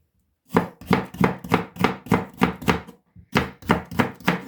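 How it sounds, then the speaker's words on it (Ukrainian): A knife chops red pepper briskly on a cutting board, about a dozen crisp even strokes in quick rhythm, with a short pause partway through. "Так само нарізаю червоний перець."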